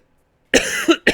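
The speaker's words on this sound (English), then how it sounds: "I always end up coughing at some point during the stream" A person coughs sharply twice in quick succession after a moment of silence, close and fairly loud.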